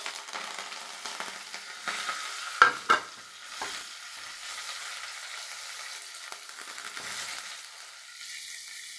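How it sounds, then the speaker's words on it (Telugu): Tempering sizzles in a pan for a gram flour and tomato curry, a steady soft frying hiss with occasional sharp clinks and stirring scrapes, fairly quiet and close, without talk. "ముందు తాలింపు వేస్తాను"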